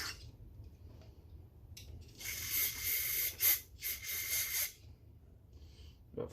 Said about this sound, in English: Go ahead and spray through all the holes in the front.